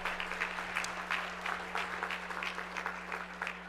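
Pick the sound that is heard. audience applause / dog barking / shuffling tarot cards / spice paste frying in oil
audience applause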